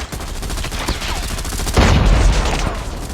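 Rapid bursts of gunfire from Call of Duty Mobile, in the Big Head Blizzard mode, rattle on steadily, with a heavier, louder volley about halfway through.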